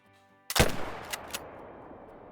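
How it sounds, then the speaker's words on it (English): A single close, sharp rifle shot from a .257 hunting rifle in the Call of the Wild hunting game, with a short echoing tail and faint crackles fading into quiet. "Especially with the 257, this thing's quiet, so I don't really feel too guilty when I take a shot with this."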